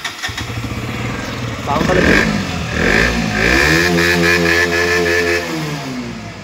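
A motorcycle engine starts and revs up, rising in pitch and then holding a steady throaty growl, loud and close, with voices nearby.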